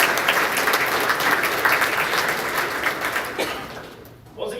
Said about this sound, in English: big round of applause to all you for all your participation and teamwork this year